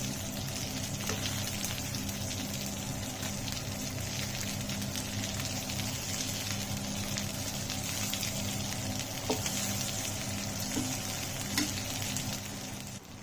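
Chicken tawa fry, including leg pieces, sizzling steadily in a pan, a dense continuous crackle and hiss that holds for the whole stretch with no voices.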